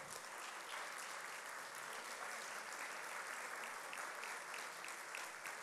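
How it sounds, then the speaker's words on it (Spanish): Audience applause greets the President of the Dominican Republic at the opening ceremony of an anniversary celebration, a dense, steady wash of many hands clapping that continues at an even level throughout, with no talking. "recibimos con un fuerte aplauso al excelentísimo presidente de la República Dominicana, Luis Abinader Corona."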